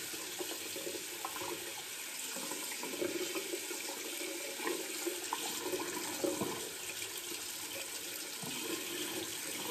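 Cold water runs steadily from a tap into a sink, a continuous hiss and splash that stays even throughout with no talking.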